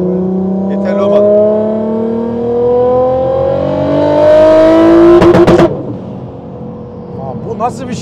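A 1200 hp automatic Toyota Supra accelerates hard with a loud, climbing engine note that rises through the revs, then cuts off abruptly as people talk and exclaim nearby.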